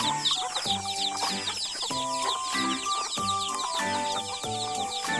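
Farm chickens clucking close by, a busy overlapping stream of short clucks and squawks with occasional longer calls, fairly soft and continuous.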